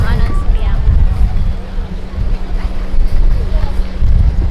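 Wind roars across a seaside promenade at a resort mall, a loud, gusty rumble buffeting the microphone, with a voice speaking over it.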